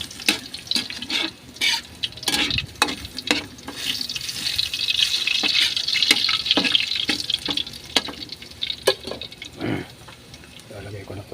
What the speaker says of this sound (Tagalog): Pichang bala, nagigisa-gisa na ako